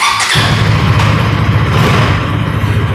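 A KTM Duke 160 motorcycle engine catches after a brief starter burst and settles into a steady, loud exhaust idle close by, with no talking.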